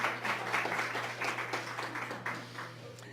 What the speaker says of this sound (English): I think that's an applause.